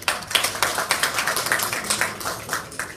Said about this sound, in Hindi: तो बहुत सारी तालियां हम सब